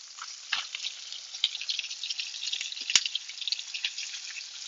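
A petrale sole fillet, just flipped, sizzles steadily in a frying pan, a bright crackle with scattered pops and one sharp clack partway through, close and with no voices.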